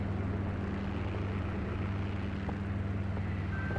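A Bell 424 helicopter flying in the X-Plane simulator, a steady low rotor and engine drone held at a constant faint level throughout, with no voices.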